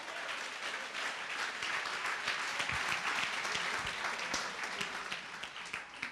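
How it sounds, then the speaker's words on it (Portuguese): A church congregation applauds together for several seconds, a dense, steady wash of many clapping hands filling the room. "Dá uma salva de palmas ao Senhor."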